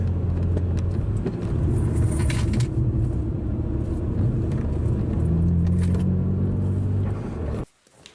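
A BMW E90 fitted with aftermarket coilovers rolls down a hill, giving a steady low road and engine rumble with light rattles, heard from inside the cabin before the sound cuts off near the end.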